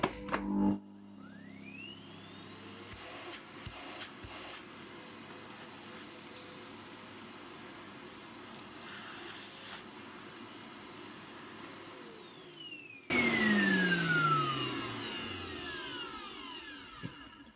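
Morphy Richards Perform Air bagless vacuum cleaner running after a fix, a steady loud whining roar whose pitch rises at the start and drops away near the end before a louder rush, close and without talk.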